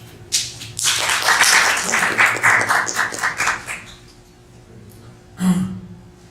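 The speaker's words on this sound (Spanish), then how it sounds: "demos un fuerte aplauso" Audience applause for a speaker at a university philosophy lecture, a short burst of clapping that swells, holds for about three seconds and fades, followed by a single louder thump.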